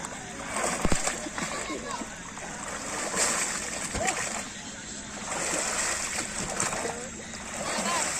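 A Ganesh idol is fully immersed in water during a visarjan ceremony, with splashing and sloshing against voices, including a louder splash near the start and ongoing water movement.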